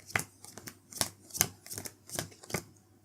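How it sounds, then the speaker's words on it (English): Cards shuffled for the Gamma Grunts tabletop game, a series of quick, faint riffling and snapping bursts at an uneven rhythm, close by with no talk. "shuffle this whole deck up, throw it back onto their deck pile"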